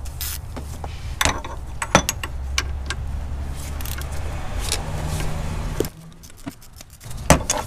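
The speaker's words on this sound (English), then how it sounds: "I'm just gonna use a 3/8 drive with a longer socket to break that one free." A 3/8 drive ratchet with a long socket breaks a bolt free during a power steering job, giving scattered metallic clicks and clanks over a low steady hum, close by, with a louder knock near the end.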